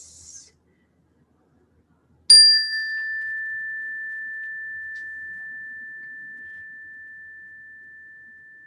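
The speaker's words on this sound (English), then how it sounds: "And with the sound of the chime, you can slowly open your eyes." A meditation chime strikes once at the end of a mindfulness session, a bright clear ding that rings on and fades slowly over several seconds in near silence.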